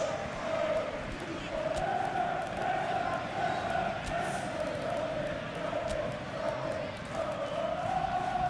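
Crowd in the football video game PES 2021 greets a substituted player, a broad swelling roar of massed voices that rises and falls in waves, loud and continuous with occasional sharp ticks.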